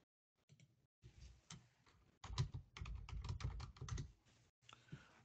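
Someone types an IP address on a computer keyboard, a run of quick, close key clicks in uneven bursts with short pauses and no talking.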